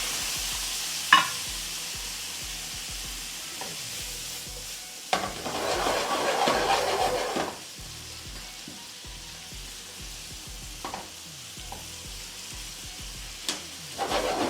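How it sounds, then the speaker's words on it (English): Tiger prawns searing in a pan with white wine poured in, a soft steady sizzle that swells into a louder hiss for a couple of seconds, with occasional stirring clinks and scrapes, no talking. "We're just going to get our white wine straight in."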